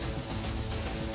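Sandpaper rubs steadily over a compressed loess clay bed board, a close, continuous gritty scraping with no break or voices.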